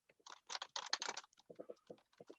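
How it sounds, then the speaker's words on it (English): Quick bursts of computer keyboard typing, close and fairly soft, tapping in uneven runs of keystrokes with short pauses between them. "Just type in my information"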